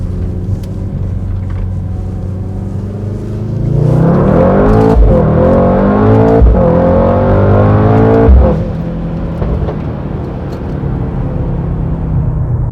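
A 2019 Mercedes-AMG GT63 S 4MATIC+ four-door coupe in AMG performance mode accelerates hard, its engine swelling from a low idle into a loud rising roar with quick gear changes before easing back.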